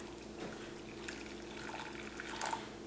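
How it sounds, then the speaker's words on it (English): Hot water pours into a bowl holding Jell-O gelatin powder, a soft steady splashing and trickle that runs through the clip at low level in a quiet kitchen. "Here goes the hot water"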